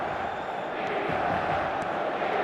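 A stadium crowd at a football match in the eFootball video game keeps up a constant broad roar, steady and full throughout, with no distinct chants or peaks.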